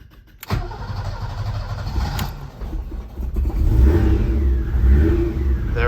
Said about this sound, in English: let's turn the ignition on.